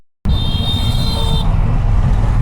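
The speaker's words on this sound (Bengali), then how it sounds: "এখানে আবার জ্যাম হয়েছে অনেকটা।" Road traffic crawls in a jam near a bridge in Kolkata, heard from a Honda CB200X motorcycle. A loud, steady roar of wind and engines plays under a thin high horn that holds for about a second before the traffic noise goes on alone.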